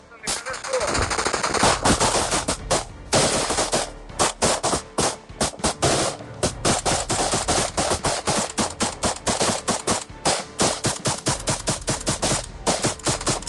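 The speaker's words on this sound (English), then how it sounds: "Suppress them with fire." Sustained loud automatic gunfire during a real assault, rapid bursts of suppressive shooting filling the whole stretch with barely any pause, voices shouting in between.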